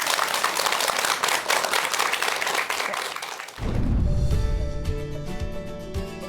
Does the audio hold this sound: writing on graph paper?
no